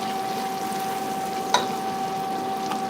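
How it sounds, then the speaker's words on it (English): Tomato paste frying in a pot as the base for jollof rice, a soft sizzle with a steady background tone and one brief sharp crackle midway. "I'm just frying the tomato paste"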